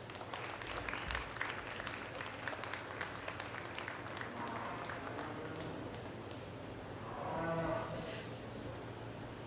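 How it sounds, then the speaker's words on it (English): Scattered audience applause at a county fair swine show, a modest crowd clapping in a large hall, with livestock and background noise mixed in and a brief louder swell later. "let's give them all a big round of applause."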